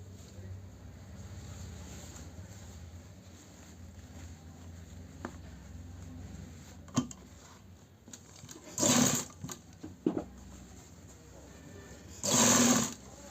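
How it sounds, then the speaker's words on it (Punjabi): Sewing machine stitching an embroidered suit: a low steady motor hum runs throughout, broken by short louder whirring bursts of stitching near the end, with a few clicks between. "ਫਿਰ ਉਦੋਂ ਆਪਾਂ ਸਲਾਈ ਮਾਰਨੀ ਸਟਾਰਟ ਕਰ ਦੋ"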